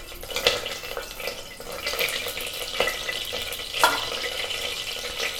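Mustard seeds dropped into hot oil in a pan for a Tamil dal rice dish, crackling and sizzling softly with scattered small pops.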